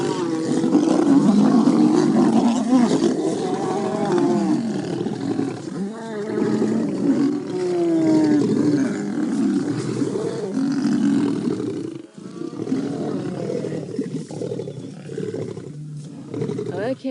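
Male lions fighting at close range, roaring and growling in loud overlapping bursts throughout, with brief dips in intensity; a voice talks quietly underneath.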